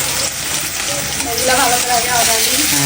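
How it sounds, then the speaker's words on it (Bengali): Dried chilies, garlic and onion fry in hot oil, giving a loud, steady, dense sizzle close by with faint stirring and background voices underneath. "তেল গরম হয়েছে শুকনা মরিচ দিয়ে দিল এগুলো রসুন তারপর পেঁয়াজ"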